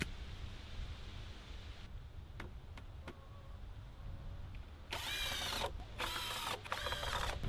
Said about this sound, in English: and drive the remaining screws.